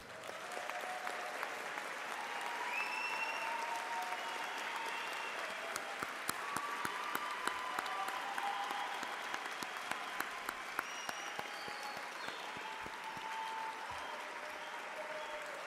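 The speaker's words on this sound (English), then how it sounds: "I do believe that the graduates deserve a thunderous round of applause." Thunderous applause for graduates at a university graduation ceremony in a large hall, a dense, sustained round of clapping from a big crowd that carries on steadily for the whole stretch without letting up.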